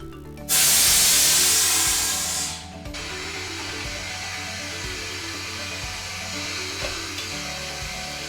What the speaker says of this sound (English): But the air compressor is located about right here overhead. So let me let a bunch of air out.